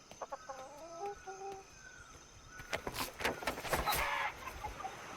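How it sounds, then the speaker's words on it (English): A chicken in the survival video game Atlas clucks in a few short rising calls, then broader scratchy noise and rustling builds over a steady faint background. "I see a bird over here, so we're going to go over here and take out this seagull. Or is it a chicken? Oh, it's a chicken."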